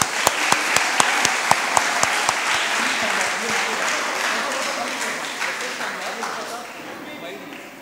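An audience at a Sanskrit group singing competition claps loudly for the winning school team. The dense, sustained applause starts with a few sharp, distinct claps, then thins gradually as it fades.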